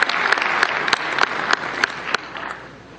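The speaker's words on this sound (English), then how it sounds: "let's give another round of applause to all the panelists" Audience applause following panel presentations at a VR design and technology microtalks event, a steady wash of many hands clapping that fades gradually toward the end.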